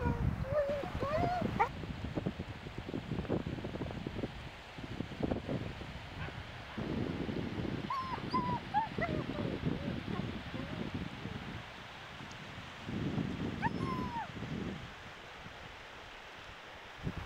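Dogs bark and whimper at a distance beside Serre-Ponçon lake, short yelps and whines coming in scattered bursts over wind rumble and occasional rustling near the microphone, with a person talking.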